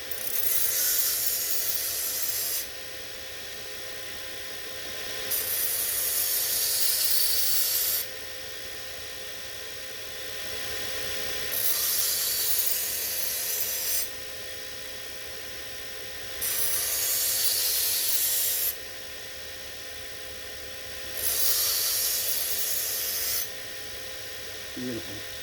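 Knife blade being sharpened on a belt grinder, several passes at a fixed angle producing a loud, bright hissing grind that starts and stops in regular bursts of a few seconds each, with a steady motor hum underneath.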